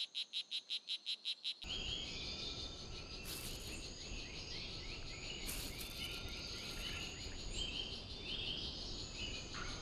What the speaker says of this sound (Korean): 딸기 독화살 개구리는 이곳에 알을 낳는다.